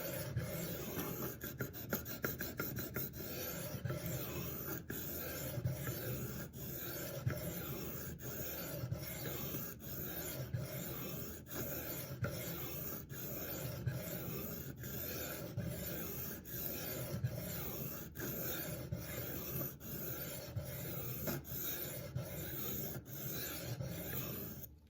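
A Spyderco Sage 5 Lightweight knife is sharpened by hand in steady, rhythmic strokes, each a soft scraping rasp of steel on a stone, repeating evenly and fairly quietly throughout with no talk.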